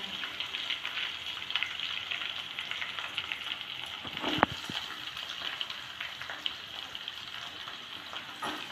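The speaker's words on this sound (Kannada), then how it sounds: "ಈಗ ಈರುಳ್ಳಿನೂ ಚೆನ್ನಾಗಿ ಆಯಿಲಲ್ಲಿ ಫ್ರೈ ಮಾಡ್ಕೊಳ್ಳೋಣ" Chopped onions frying in oil in a pan: a steady, fairly loud sizzle with crackling and occasional stirring scrapes, one sharper knock midway, no talking.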